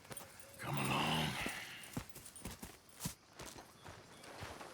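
Horse hooves clip-clopping in Red Dead Redemption 2: spaced hoofbeats on the ground at a moderate pace, with a short whinny-like sound early on and quiet ambience behind.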